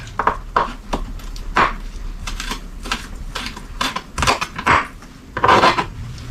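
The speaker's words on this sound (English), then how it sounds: "I don't want to bite into big pieces of shallot, so I am mincing it." A knife minces and slices shallot on a cutting board, a quick irregular run of sharp, close chopping taps with short pauses between bursts, no talking.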